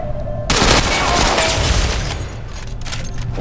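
Loud bursts of rapid gunfire in the online shooter Ghost Recon Online, a dense, booming volley that starts abruptly and keeps rattling through, close and forceful.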